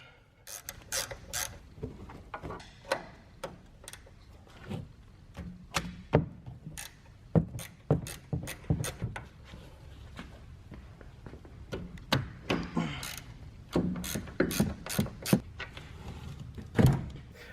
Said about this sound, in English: next we're going to go ahead and loosen and remove the three nuts that hold the strut assembly into the frame